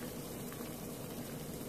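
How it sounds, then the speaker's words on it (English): Boiling water being poured onto grated plantain for porridge gives a brief, steady rushing hiss of liquid, close and continuous without pause. "this is my boiling water that I'm about to pour"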